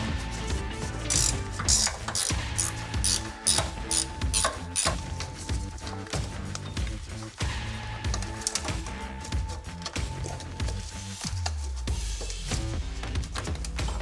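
Ratchet wrench snugging T-bolts while fitting a Luverne rear grip step on a RAM ProMaster van, a rapid, steady clicking run of pawl ticks, close and loud with brief pauses between strokes.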